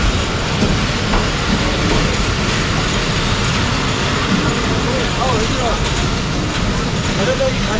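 The Kohat Express rumbles through Fatehjang railway station with a loud, continuous clatter of wheels on rails, under a busy wash of platform crowd noise.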